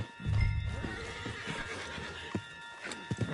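A horse in Red Dead Redemption 2 gives a loud, close whinny, followed by scattered clip-clop hoof steps and small thuds.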